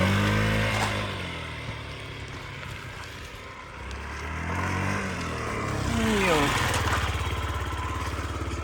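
A Yamaha Gear four-stroke fuel-injected scooter engine runs close by with a steady low drone, rising into a brief rev near the end while someone talks over it.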